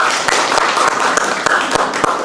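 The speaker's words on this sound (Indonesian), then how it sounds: "tepuk tangan untuk Aul dan untuk Abimayu" Applause for two students, Aul and Abimayu, in a university teaching session, a steady wash of hand clapping with a few sharper claps standing out, fairly loud and close, with no talk over it.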